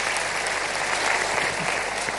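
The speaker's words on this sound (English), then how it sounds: "Let me propose a round of applause for all those who gave wonderful suggestions." Audience applause at a live student gathering, dense and steady clapping from a crowd filling the whole moment without pause, fairly close and even in loudness.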